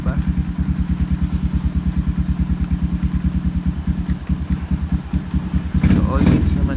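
A Yamaha YTX125 motorcycle engine idles during a kill switch test on a scrambler build, a close, steady fast-pulsing putter with a brief louder blip near the end.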